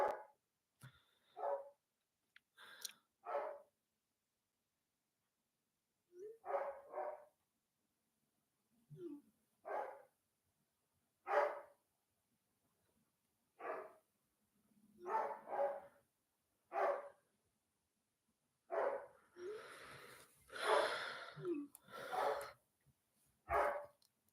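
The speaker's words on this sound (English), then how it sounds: "the dog is barking" A dog barks in repeated short bursts over roughly twenty seconds, sometimes single and sometimes in quick pairs. The barks are close and clear, with quiet gaps between them.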